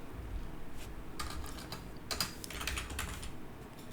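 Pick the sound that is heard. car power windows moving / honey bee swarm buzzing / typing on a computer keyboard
typing on a computer keyboard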